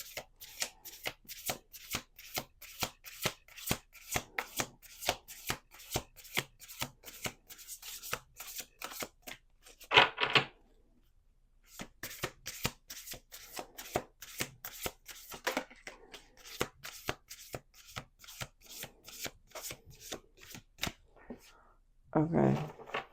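A deck of playing cards being shuffled again and again in rapid rhythmic riffles, close and crisp, with short pauses between shuffles and a person talking quietly at times.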